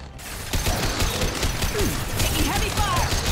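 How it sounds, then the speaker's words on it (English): Gunfire in the video game Mass Effect, dense rapid shots and mechanical clatter over a noisy battle bed, with a voice talking over it. "Taking heavy fire."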